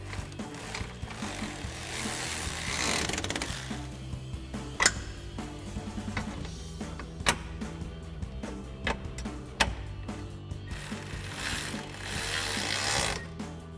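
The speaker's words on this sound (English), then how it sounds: "we can tighten this down using a 13mm socket and a 13mm wrench" A 13mm socket ratchet and wrench tighten a bolt on a Jeep Wrangler JL fender flare install, giving rapid close ratchet clicking in bursts with brief pauses and sharp metallic ticks.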